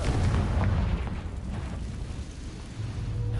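Fiery Confringo spell blast in Hogwarts Legacy, a heavy booming explosion that hits at once and rolls into a low rumbling tail, with a second deep thud swelling near the end.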